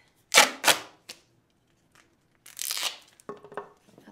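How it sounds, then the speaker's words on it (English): Duct tape ripped off the roll in a few short, sharp tearing bursts, then a longer pull and some crinkling handling noise, close by in a quiet room. "Now I need some more duct tape."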